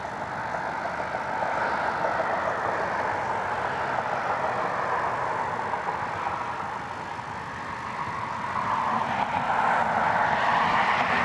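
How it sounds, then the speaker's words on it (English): An Airbus A220 airliner approaching Cleveland Hopkins airport on its final turn gives a steady, distant broadband roar that swells slightly toward the end, heard on its own with no talk. "Delta 1449 about to turn final over downtown. Airbus A220 out of Minneapolis."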